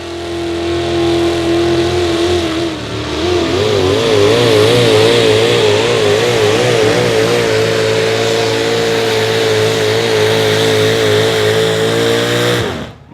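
A naturally aspirated, alcohol-fueled Ford modified 4x4 pulling truck of up to 650 cubic inches, known as the Black Magic Ford, roars loud and sustained at a truck pull, its engine note wavering and climbing before cutting off abruptly at the end.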